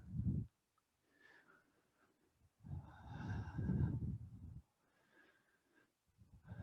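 Slow, deep breaths during a yoga practice of sun salutations, audible inhales and exhales drawn out over a few seconds each with quiet gaps between, close and fairly soft.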